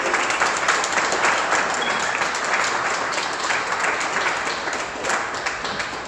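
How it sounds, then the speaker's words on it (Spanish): Sustained audience applause at the close of a book presentation, steady and fairly loud clapping from a seated crowd for the speakers, lasting several seconds without talk. "les pido un fuerte aplauso por favor para los conferencistas"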